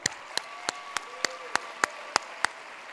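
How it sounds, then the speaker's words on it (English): Audience at a UN conference closing ceremony clapping: separate, evenly spaced claps, about nine in quick succession, fairly close and moderately loud over a quiet room. "A big applause to the youth."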